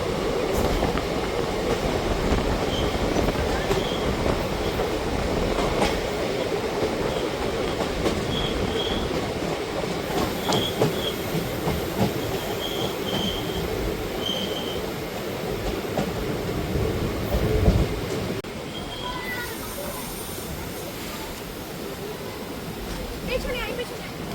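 Inside the Ganadevta Express running at high speed, around 120 km/h, a continuous loud rumble of wheels and carriage rattle carries on steadily, with faint rhythmic clicks and a brief shift in tone near the end.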